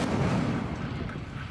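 Incendio, a fire spell in Hogwarts Legacy, bursts out as a dense, roaring rush of flame. The blast is loud and fills the short moment with no gaps, and no speech is heard over it.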